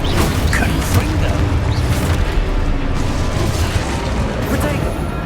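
A Confringo spell explodes in Hogwarts Legacy amid dense, continuous combat noise, with loud booming and rumbling blasts that layer over one another throughout.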